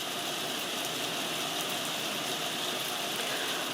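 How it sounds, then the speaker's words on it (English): Heavy rain pours down in a steady, dense hiss, continuous and even throughout with no talk. "it absolutely started pissing it down. I thought it was supposed to be a drizzle today. Nope, full on rain."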